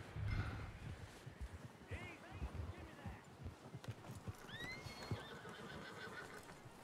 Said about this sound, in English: Get that horse hitched up!